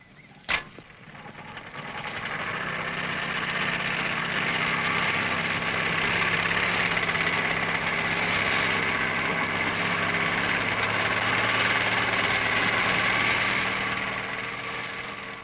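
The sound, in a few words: Series 2 Land Rover winching itself out of mud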